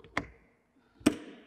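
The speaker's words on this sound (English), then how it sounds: "snap the compression latch in place." Travel trailer exterior basement door on a 2021 Oliver Legacy Elite II swung shut, then its compression latch snapped in place: two sharp separate clicks about a second apart, close and fairly quiet.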